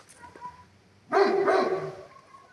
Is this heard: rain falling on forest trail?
no